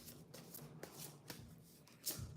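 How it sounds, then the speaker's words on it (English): A deck of cards is shuffled by hand in a series of soft, quick riffling and tapping bursts, close and quiet, with no one talking. "I know I need to shuffle and pull the last one"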